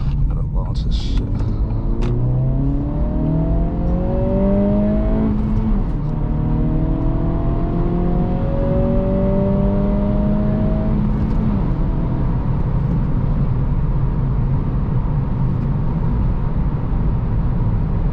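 An Acura Integra A-Spec launches from a stop, its engine revving up through rising, droning pitch sweeps under a constant rumble of road noise, heard from inside the car with a voice talking.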